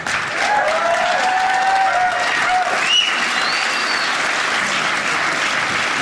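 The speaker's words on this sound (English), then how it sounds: "Give her a round of applause." A comedy club audience applauds steadily for the comedian's wife for several seconds, a loud, even wash of clapping with a few scattered voices mixed in.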